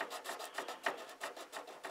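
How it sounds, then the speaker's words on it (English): A sanding stick is rubbed back and forth over a plastic 1:200 RMS Titanic model in quick, even, rasping strokes, close and fairly quiet, with no voices. "just go like so and sand it down to zero"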